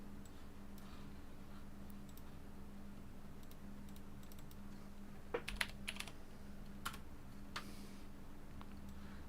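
Typing on a computer keyboard, sparse light key clicks and a few quick bursts, faint and close over a low steady hum, no talk.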